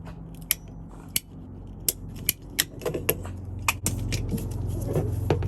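Scissors trim something shorter, with sharp, close snips spaced about a second apart, then a quicker cluster of cuts, over a low background hum that rises toward the end.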